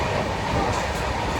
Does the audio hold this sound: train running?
yes